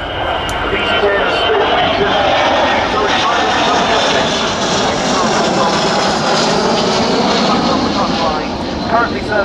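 Jet engines of a VC-10 aircraft roar loudly and steadily at an air show, a broad sustained rumble with shifting whine, while an announcer talks over the sound.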